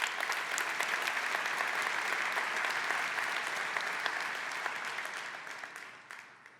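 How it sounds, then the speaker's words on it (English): A large keynote audience at a tech summit claps for marketplace vendors, a broad, even roar of applause that holds steady and then tapers off toward the end. "So a huge round of applause for our marketplace vendors,"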